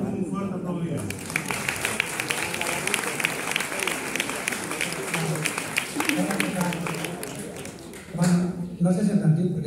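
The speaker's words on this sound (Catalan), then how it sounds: "Rebem-vos amb un fort aplaudiment." Dense, steady clapping from an audience at a live poetry and music event, sustained for several seconds with crowd murmur and a voice speaking over it.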